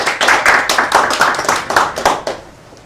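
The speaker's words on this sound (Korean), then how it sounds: "우리 박수로 김민경 교수님." Audience applause welcoming Professor Kim Min-kyung to a health lecture on cancer, a steady burst of many hands clapping with distinct rhythmic peaks, fading out near the end.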